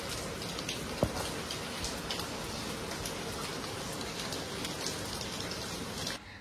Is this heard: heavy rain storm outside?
yes